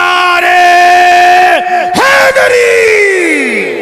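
A large crowd roars a loud, sustained chant in reply to a preacher's call of Nara-e-Risalat at a religious gathering, the voices swelling together, dipping briefly, then carrying on as a long unified shout.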